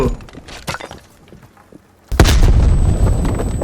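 A grenade blows up in Call of Duty Black Ops Cold War: scattered small clatters give way to a sudden loud, close blast that rumbles and crackles steadily to the end.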